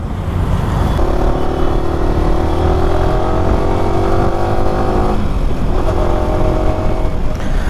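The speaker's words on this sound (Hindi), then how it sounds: "बाइक एकदम पावरफुल लग रही है" A Yamaha R15 V4 motorcycle rides along with its engine loud and close, revving steadily with rising pitch through the gears and a brief dip mid-run, with no talk.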